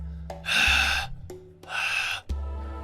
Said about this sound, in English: The sound of heavy breathing.